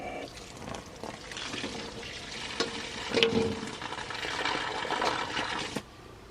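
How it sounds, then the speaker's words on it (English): A Flexzilla garden hose runs water into a bucket, a continuous splashing gush that swells and varies, with brief clunks and no voices heard. "So if you just want the water to flow and you're filling up a bucket, I guess you'd want this side of it."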